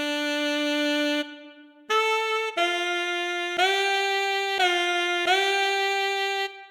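The Saxophia free saxophone plugin by Phantom Team plays a series of sustained, bright saxophone notes with pitch glides between them, loud and close, alone without any talking.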